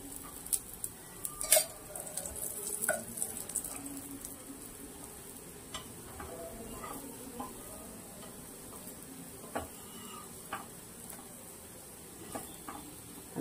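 Brinjal slices coated in batter fry in oil in a pan, a soft, quiet sizzle with occasional faint ticks and stirring clicks close by.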